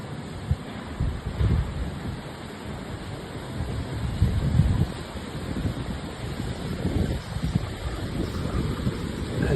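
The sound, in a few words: strong wind on the coast of St. Kitts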